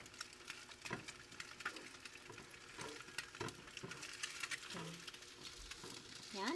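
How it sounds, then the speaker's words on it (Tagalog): Egg being stirred and fried in a pan for fried rice with kangkong, a steady low sizzle under repeated scraping strokes of a utensil, fairly faint and close. "halo-halo ang itlog"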